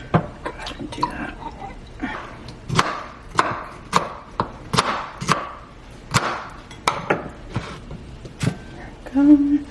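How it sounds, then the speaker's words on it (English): A knife chops dill pickled cauliflower on a cutting board, making a run of sharp, close, fairly regular knocks with short pauses between strokes. "We're gonna add that delicious cauliflower I love, the dill cauliflower. I probably should chop it up a little bit."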